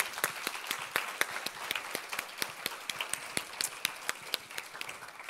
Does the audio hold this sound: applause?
yes